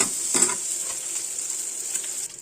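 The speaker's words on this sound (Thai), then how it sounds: "หมูสามชั้นที่ลงไปเมื่อกี้นี้นะครับ เราจะเคี่ยวจนเขากรอบนะครับ" Pork belly frying in a pan over medium heat as the fat renders for carbonara, a steady close sizzle with one brief stirring scrape early on, no voices.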